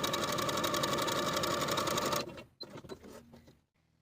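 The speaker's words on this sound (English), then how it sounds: "I'm going to use the longest stitch on my machine with a 1/4 inch seam allowance" Sewing machine sewing long basting stitches at the longest stitch length with a quarter-inch seam allowance, a steady close rattling run that stops abruptly, followed by light handling clicks and quiet.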